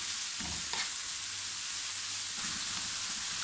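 Vegetables cooking in a frying pan for a macaroni gratin, with tomato sauce and spices added, give a faint, steady sizzle and hiss, broken by a few soft stirring scrapes, with no talk.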